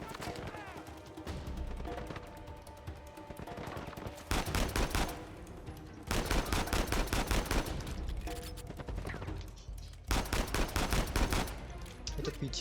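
Rapid gunfire bursts from an in-game firefight in Uncharted 4, with loud clustered volleys around mid-clip and near the end over a continuous game soundtrack backdrop.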